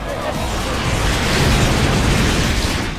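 An enemy unit blows up in the Gundam Breaker video game, a single heavy, rumbling explosion with a broad crackling burst that holds loud and steady for a few seconds before easing slightly.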